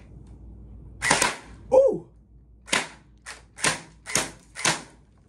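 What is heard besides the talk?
MP5 gel blaster shooting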